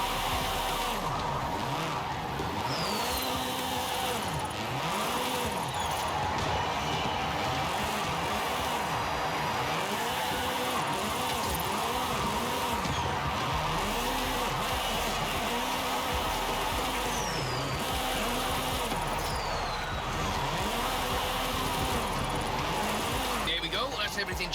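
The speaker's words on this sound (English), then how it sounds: "So just drift it down the runway?" A Sprinter van drifts down a runway in Forza Horizon 5, its engine droning steadily under long, repeated tire squeals that rise and fall in sweeping arcs, with someone talking over the game.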